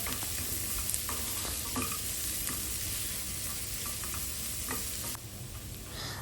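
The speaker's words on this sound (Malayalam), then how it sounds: "ഇത്രയും ചേർത്തിട്ട് ഉള്ളി നന്നായിട്ട് ലൈറ്റ് ബ്രൗൺ ആവുന്ന വരെ സോട്ട് ചെയ്യുക" Onions and cashews sauté in a hot pan until light brown, giving a steady, close, full hiss of frying with occasional soft stirring clicks and no talking.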